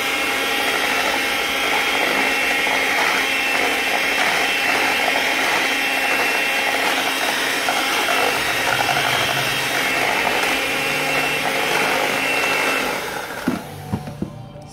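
Steady whirring drone of an electric mixer beating cake batter made with eggs and sour cream, loud and continuous for about thirteen seconds before stopping with a few clunks.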